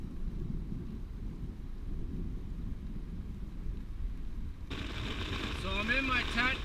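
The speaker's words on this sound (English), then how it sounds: "as you can hear, it's a torrential downpour" Heavy rain drumming on a backpacking tent in a storm, starting as a low rumble of wind and thunder, then a dense, loud hiss of downpour suddenly taking over about two-thirds of the way through.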